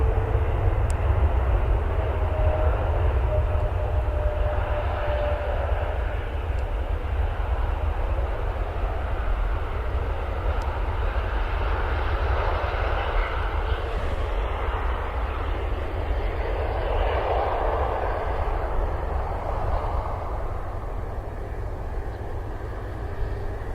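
Aircraft at Manchester Airport, a steady loud low rumble of engines running continuously, with a broad roaring hiss that swells slightly near the middle and holds throughout without any talk.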